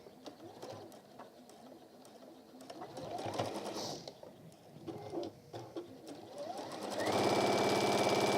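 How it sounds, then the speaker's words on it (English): A sewing machine stitches around three sides of a lined deluxe apron's body in a workshop, its motor whirring in several bursts that grow louder and steadier toward the end, with birds cooing faintly in the background. "we're just going to sew around the other 3 sides"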